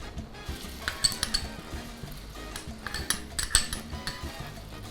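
Metal spoon clinks and scrapes against a pot as ginger garlic paste goes onto browned onions, a run of irregular light taps and knocks over a steady low background with no talk.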